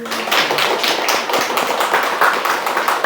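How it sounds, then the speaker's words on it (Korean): A church congregation claps together in a lively, fairly close burst, many hands producing a rapid, rhythmic patter that stays strong throughout. "박수 한번 칩시다."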